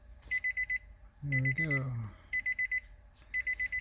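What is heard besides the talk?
electronic beep from car stereo during install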